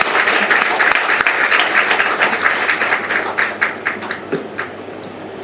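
A crowd at a working women's preparatory meeting claps to approve a proposal for a chairperson, dense loud applause that thins into scattered individual claps toward the end, with no speech.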